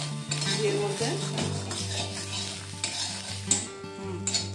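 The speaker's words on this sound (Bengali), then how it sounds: "আমি নারকেলটা একটু কড়াইতে ভাজতে নেবো, ঘিয়ের মধ্যে" Grated coconut fries in ghee in a wok, a steady close sizzle under repeated scraping and clinking of a metal spatula against the pan, with stirring strokes throughout.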